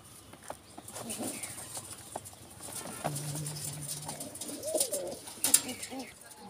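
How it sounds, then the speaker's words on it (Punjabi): A red Chinese pigeon coos softly in a loft, low throaty notes repeating close by amid light rustling and faint background noise. "ਇਹ ਵੀਰੇ ਲਾਲ ਚੀਨੀ ਕਬੂਤਰੀ ਆ"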